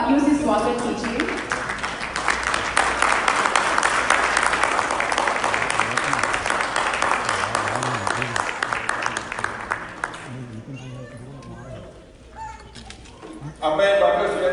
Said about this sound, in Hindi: जोरदार तालियों से इसका स्वागत कीजिए।